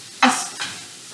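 A flat bamboo tool scrapes browning sausage across a frying pan bottom in two quick strokes, the first louder and sharper, the second softer, over a faint sizzle.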